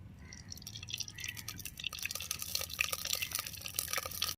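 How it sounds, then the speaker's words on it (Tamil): Cold-pressed groundnut oil is poured into a hot, dry pan, a soft trickling pour that swells into bright sizzling and crackling over a few seconds, close and alone. "நம்ம சுத்தமான செக்கில் ஆட்டின கடல் எண்ணெய் ஊற்றிக்கலாம்"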